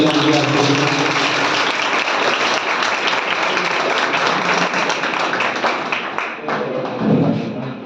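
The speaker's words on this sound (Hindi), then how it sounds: "एक बार इनका जोरदार तालियों से स्वागत है" Loud, dense audience applause welcoming a winner at an award event, sustained and close throughout, dipping briefly near the end before a final swell.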